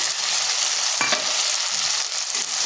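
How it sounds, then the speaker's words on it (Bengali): Potatoes, flat beans and spices fry and are stirred together in a pan, giving a steady close sizzle with one sharp spatula scrape partway through. "এরপর ভালোভাবে আলু, সিম আর এই মশলাগুলো মিশিয়ে নিচ্ছি। আর তার সাথে মশলাটাও ভাজা হয়ে যাচ্ছে"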